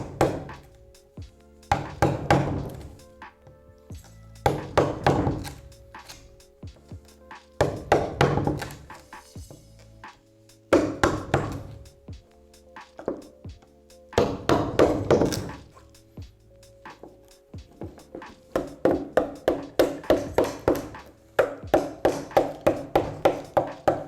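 A wood chisel tapped gradually into a surfboard to carve a recess for a fin box, sharp close knocks in uneven bursts and runs, separated by brief quiet gaps.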